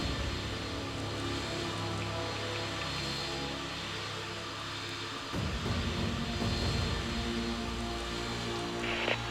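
A Delta airliner approaches to land at Maho Beach in Tower! Simulator 3, giving a continuous broad jet roar that shifts and swells partway through, with no voices.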